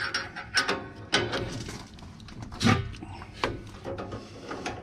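Ratchet wrench clicking in short bursts while loosening an exhaust clamp on a 2007 Freightliner Columbia truck, close up and fairly quiet, with a few pauses between strokes.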